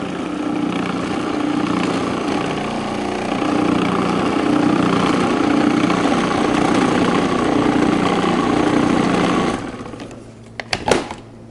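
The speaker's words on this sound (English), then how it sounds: "you can just whir it up, turn it on for a few minutes, scrape it down a few times, and you're literally looking for it to be a paste texture" A food processor whirs steadily for about nine seconds, blending ingredients into a paste. The motor then winds down, and a few clattering knocks follow near the end. The sound is close and loud, with no talking.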